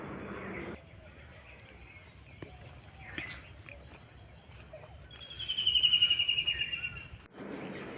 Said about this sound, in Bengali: অনেক পোকার শব্দ পাওয়া যাইতেছে, মনে হইতেছে যেগুলো ঝিঝি পোকা।